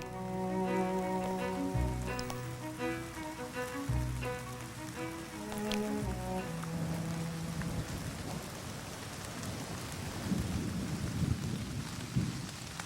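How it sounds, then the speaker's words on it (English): Heavy rain pours steadily while deep rolls of thunder rumble beneath, a dense, continuous downpour. "Those who remain face the full force of the rain."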